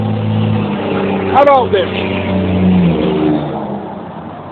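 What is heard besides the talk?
big truck engine revving loudly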